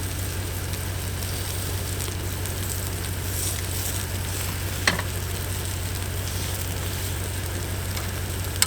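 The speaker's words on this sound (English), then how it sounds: "Oh, I got boiling water." Water boils in a pot on a camp stove on Spencer Mountain, Maine, with a steady, close hiss and soft bubbling crackle that stays even throughout, apart from a faint clink partway through.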